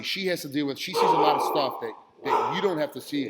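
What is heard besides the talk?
dogs barking at a cat outside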